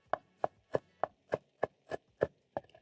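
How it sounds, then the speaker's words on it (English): Fresh coriander is chopped on a board with a knife: nine crisp, evenly spaced chops, close and clear, with no talking. "I'm going to chop up some coriander for garnishing my cabbage once it's ready"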